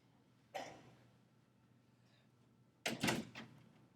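A door is pulled shut in a lecture room: a soft thud early on, then a louder clunk and rattle of the latch a couple of seconds later, otherwise quiet room hum.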